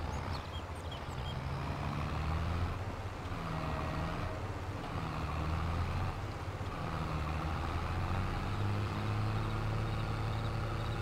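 Tractor engine driving in the video game Farming Simulator 22, a steady low droning rumble with faint tonal beeps, continuous and moderately close with no talk.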